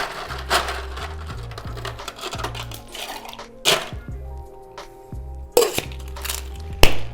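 Ice cubes clatter and clink into a metal cocktail shaker while mixing a tequila, triple sec, agave and lime drink, several sharp irregular crashes and rattles at close range with quieter settling between them, no talk.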